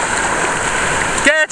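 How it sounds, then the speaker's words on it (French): Ocean waves rolling in along a shoreline, a continuous close wash of churning surf, ending with a brief voice over the water. "check les vagues qui s'en viennent"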